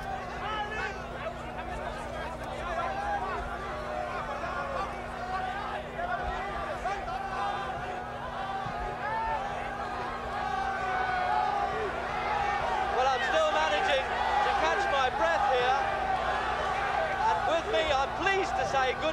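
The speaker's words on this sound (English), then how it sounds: "These supporters are getting very excited, a little overexcited." Excited ringside boxing crowd in Zurich, a dense roar of many voices and chatter building slightly louder over time, with a steady electrical hum underneath.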